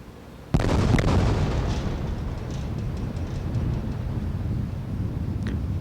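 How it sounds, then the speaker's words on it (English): Space Shuttle Columbia's sonic booms on arrival for landing: a sudden loud double-edged boom that rolls into a long, sustained rumbling roar with wind buffeting, heard outdoors at a distance. "Sonic booms announcing Columbia's arrival in the landing area."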